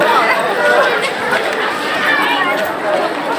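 Loud, dense crowd chatter fills a packed railway platform in Kolkata, many overlapping voices forming a steady, close murmur without pause.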